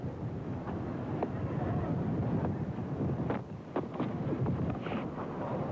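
A gusting nor'wester at a 1995 Pakistan vs New Zealand cricket match buffets the microphone in a steady low roar, with fainter background noise mixed in and no talking.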